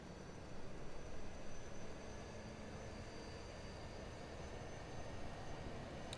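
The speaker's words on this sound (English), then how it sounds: "We'll listen to the APU spooling." An airliner's auxiliary power unit spooling up in Microsoft Flight Simulator, heard as a steady, faint broadband turbine whine and rush that holds evenly throughout with no voices.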